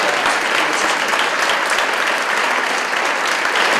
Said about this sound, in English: Please join me in the round of applause.